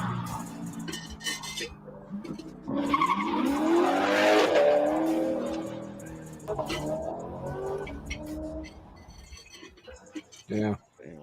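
A supercar speeding past with a rising then fading engine note and tire noise, swelling to a loud pass in the middle, while people talk over it.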